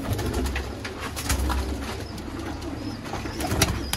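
Sialkoti pigeons coo softly in a loft, their low murmuring calls layered under faint chirps and light rustling, close and continuous with no voices.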